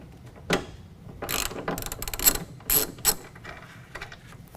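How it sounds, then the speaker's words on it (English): A ratchet wrench backs off a 13 mm nut on a Multi-Pro tailgate of a Chevy/GMC truck, giving several close bursts of sharp clicking with short pauses between strokes. "we're going to go to this nut on that Multi-Pro tailgate. It's a 13 millimeter. We're going to go ahead and pull that off."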